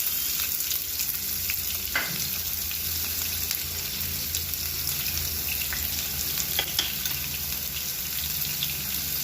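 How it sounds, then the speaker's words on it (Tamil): Onions frying in oil with spluttered mustard seeds, a continuous close sizzle and crackle with occasional sharp pops and stirring scrapes, no voices. "இப்போ கடுகு பொரிஞ்சதுமே வெங்காயம் போட்டுக்கோங்க"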